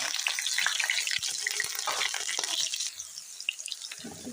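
A single onion sizzles in a spoonful of hot ghee in a pan, a steady crackling hiss with faint pops that eases slightly toward the end.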